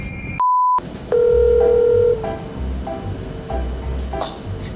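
A short electronic beep followed by a repeating phone ringback tone, several evenly spaced rings on an open line.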